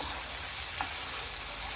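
A meat dish fries in a pan with a steady, dense sizzling hiss, loud and close, with one faint clink partway through.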